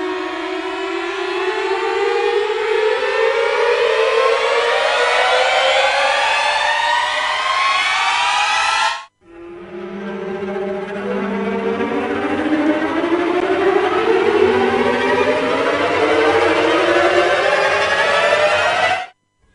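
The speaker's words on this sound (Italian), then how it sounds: "sono i tipici suoni che possiamo ascoltare in un trailer di un film." Two long cinematic trailer risers from an orchestral sample library sweep steadily upward in pitch, each building loud and dense before cutting off abruptly, one after the other.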